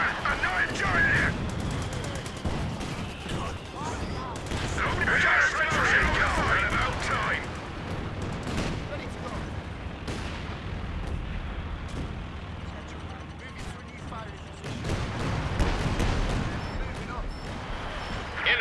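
A 4v4 Company of Heroes 2 battle on the Sittard Summer map with dense gunfire, machine-gun bursts and heavy artillery booms. Sustained and loud throughout, with unit voice lines talking over it.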